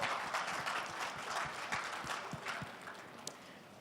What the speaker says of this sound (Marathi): मान्यवरांसाठी एकदा जोरदार टाळ्या होऊन जाऊ दे.